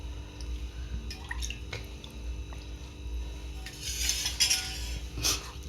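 Hot ghee is poured and stirred into a bajra churma mixture of millet flour and jaggery, giving soft wet drips, squishes and light clinks of a spoon against a bowl, close and intermittent.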